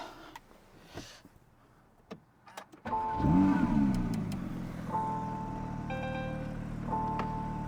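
A car starts up: the starter cranks briefly, then the engine catches with a low rumble and settles into a steady idle. A few faint electronic chimes sound over it, close by and with no talk.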